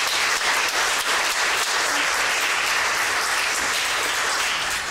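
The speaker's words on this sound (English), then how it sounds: "A warm round of applause" A concert audience at a noon piano duet recital gives a warm, dense round of applause, steady and fairly close, with no other sound over it.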